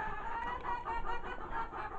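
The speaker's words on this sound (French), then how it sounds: "il y a une poule qui pond" A laying hen clucks in a soft, repeated, throaty rhythm in a poultry yard, fairly faint and close, against a low ambient background with no talk.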